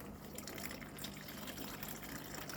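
City water in a bucket for soil tonic bubbles steadily under aeration, a constant close, even fizzing and gurgling wash with no pauses or talk.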